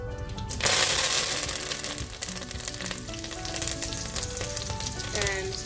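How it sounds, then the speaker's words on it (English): Fresh curry leaves hit hot oil and burst into a loud, crackling splutter that gradually settles into a busy, steady sizzle, heard close up with no talking. "Now it's typical for curry leaves to splutter if the oil is hot,"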